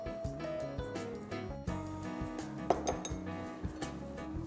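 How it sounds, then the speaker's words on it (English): Chocolate muffin batter being mixed in a bowl for choco lava muffins, with repeated clinks and knocks of a utensil against the dish over a humming background, one sharper tap standing out. "Now just mix it nicely"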